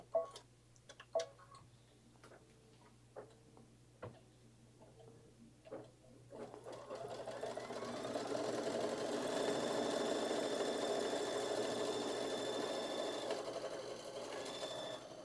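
An embroidery machine sews a placement stitch, starting with a few clicks and taps and then settling into a steady, close mechanical whirr with a rapid ticking needle rhythm that holds for the rest of the clip.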